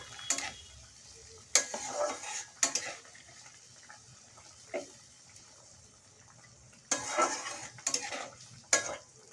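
Fried tengra fish being poured into a pan of nearly cooked potato curry and stirred, with a steady low sizzle and intermittent louder bursts of spoon scraping and stirring, close by with no talk.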